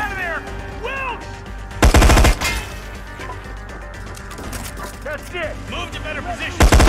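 Gunfire in the Hitman video game: two loud bursts of rapid automatic shots, one in the middle and one at the very end, set against tense game music and excited spoken voices.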